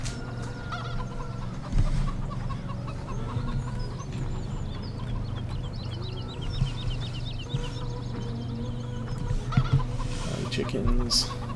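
Chickens cluck continuously in Farming Simulator 17 on a Lawfolds, Aberdeenshire farm in winter, a steady chorus of soft clucks over low ambient hum.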